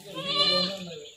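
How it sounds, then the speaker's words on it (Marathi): A young goat kid on a Konkan village farm gives one close, wavering bleat lasting about a second. "शेळीची पिल्ला."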